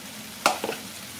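Minced turkey meatballs hit a hot pan with fried onion, giving a short sizzle and a stirring scrape, then a quiet background hiss.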